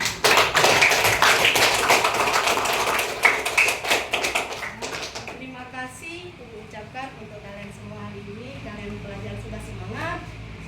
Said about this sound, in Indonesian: Tepuk tangan dulu untuk kalian.